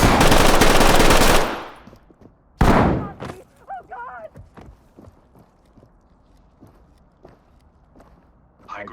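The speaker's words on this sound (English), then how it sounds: "you can see that he already started shooting at me without even seeing me" Enemy gunfire in the tactical shooter Ready or Not: a loud sustained automatic burst, then a second short burst, followed by scattered footsteps and light gear movement at moderate distance.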